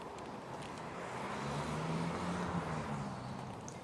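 A skip lorry drives past on a street outside a shop in Stirling, Scotland, as a low, steady engine rumble that swells midway and then eases, heard at a moderate distance.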